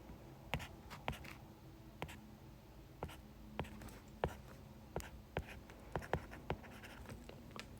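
Pen scratching and tapping on a surface while a chemistry example of an alkene is drawn, with irregular clicks and short strokes, close and quiet, with no talking.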